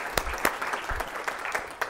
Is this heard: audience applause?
yes